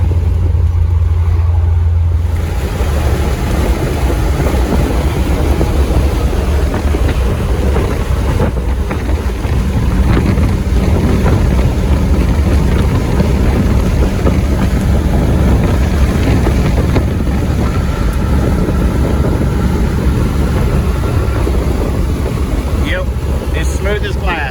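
An old hot rod Roadster pickup truck cruising on the interstate, a loud, constant road and engine roar with heavy wind buffeting on the microphone throughout, no voices standing out.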